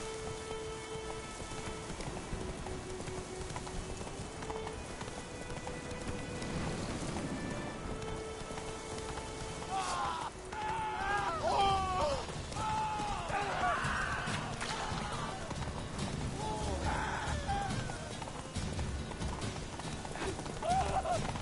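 Roach the horse gallops in The Witcher 3 with quick, rhythmic hoofbeats that are close and fairly loud. Rain patters throughout, and a voice talks over it.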